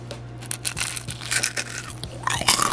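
Repeated crunchy bites into fried chicken eaten with fried rice, several sharp close crackles spaced across the moment, then a denser burst of crunching at the end over a faint constant hum, no voices.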